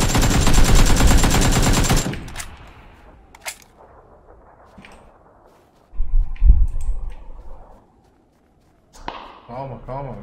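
Gunfire in the PUBG video game comes as a burst of rapid automatic fire at the start, followed by scattered single sharp shots and a deeper thud, loud against quieter gaps.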